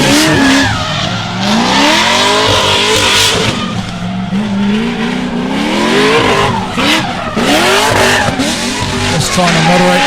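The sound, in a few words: drift car tires squealing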